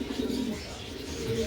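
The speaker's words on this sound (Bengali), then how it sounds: "ম্যাকপাই পটার মাদি কবুতর আছে একটা" A female magpie pouter pigeon cooing softly and steadily at close range, low and faint.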